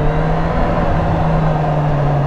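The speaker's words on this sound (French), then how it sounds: "nous avons Titi qui recule avec son petit camion" A small truck reverses close by, its engine holding a steady low drone and hum at constant speed with no talking.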